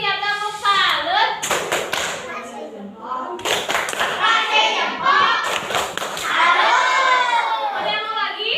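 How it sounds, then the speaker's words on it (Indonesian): Fourth-grade children in a classroom clap in short rhythmic bursts, loud and close, with children's voices and talk mixed in between the rounds. "tepuk salut buat dia, tepuk salut"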